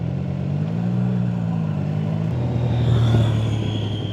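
A CFMOTO 675SR motorcycle, a class 2 bike over 400cc, drones steadily while being ridden, its engine tone holding at one pitch and then dropping as the rider shifts, with continuous wind and road rumble and no talking.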